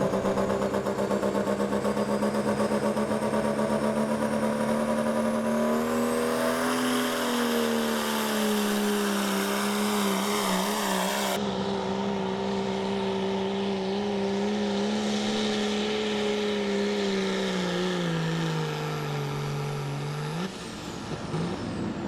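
A Dodge diesel truck in the Hot Rod Diesel class at an Appalachian Outlaws truck and tractor pull roars under load, its engine note rising and holding loud and close as it runs down the track, then dropping off at the end.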